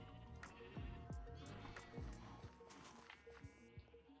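Sheep bleat in the video game Minecraft, several short, wavering calls in quick succession with light footstep sounds underneath, fairly quiet overall.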